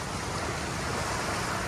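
Sea waves washing onto a beach in Boracay, a continuous broad rush of surf with some wind noise, close and steady for a brief moment with no voices.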